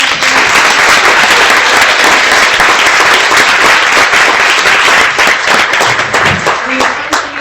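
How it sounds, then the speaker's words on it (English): An audience at an awards event applauds, a dense, loud burst of clapping from a room full of people that thins out toward the end. "let's just have one more round of applause for our champions"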